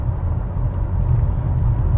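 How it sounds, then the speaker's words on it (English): Low, steady rumble of road noise inside the cabin of a 2021 Toyota Camry LE on 17-inch wheels, driving over a rough stretch of pavement, a constant dense drone without talk. "Now I hear just a little bit more road noise now that I'm on this rougher part here"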